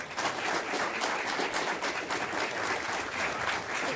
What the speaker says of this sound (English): Everyone in the audience has been very patient holding their applause.